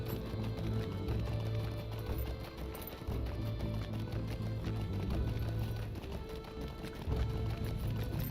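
Horse hooves clip-clop steadily in Lord of the Rings Online, a continuous rhythmic trot heard close over low ambient game music.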